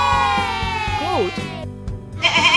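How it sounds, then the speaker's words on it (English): A goat bleats in a long wavering cry that rises and wobbles, followed by shorter bleats, loud and close over a light musical backing. "Goat."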